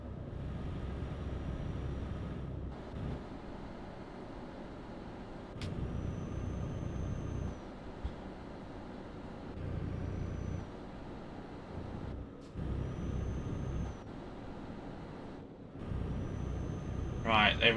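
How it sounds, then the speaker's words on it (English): Vehicle engines idle and rumble close by at a petrol station as a car and a truck pull in, with air-brake hisses and squeals cutting through at intervals under a steady low drone, and people talking over it. "Car and a truck pulled into the petrol station"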